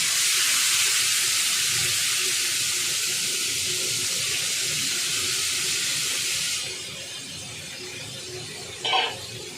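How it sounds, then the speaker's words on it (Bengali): Rohu fish pieces coated in salt and turmeric sizzle loudly in hot oil, a dense continuous hiss that drops to a softer sputter partway through, with a brief clink near the end. "এবার আমি রুই মাছের তেল নুন হলুদ দিয়ে মেখে রেখেছিলাম এগুলো আমি তেলে ছেড়ে দেব"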